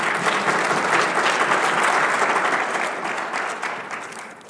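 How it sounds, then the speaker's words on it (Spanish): A church congregation applauds during a sermon, a loud, dense burst of clapping that holds steady and then gradually tapers off. "Denle un aplauso al Señor."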